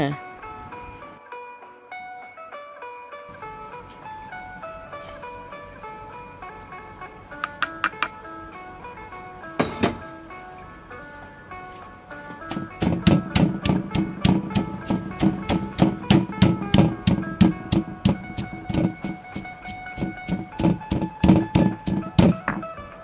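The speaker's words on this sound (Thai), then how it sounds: "ตอนนี้เม็ดถั่วเหลืองที่แช่ไว้ก็นิ่มดีแล้ว จะนำลงไปโขลกให้ละเอียดค่ะ" Soaked, softened soybeans are pounded in a mortar for a traditional banana-stem curry. Repeated rhythmic thuds start sparse, then grow steady and strong, with a voice and a background tone running throughout.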